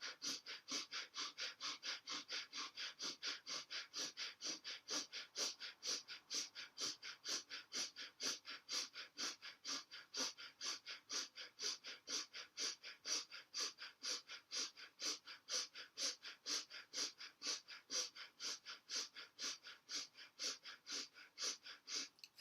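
Breath of fire in a Kundalini yoga class: fast, even, forceful nasal exhalations pump in a steady rhythm of about three per second for the whole stretch, close and breathy with no talking.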